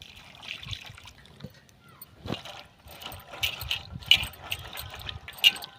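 Freshly shelled green peas are rinsed in water, with soft intermittent trickling and small splashes close by and a few sharper drips over a quiet background.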